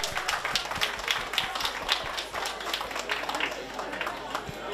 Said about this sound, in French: on applaudit cette belle équipe, s'il vous plaît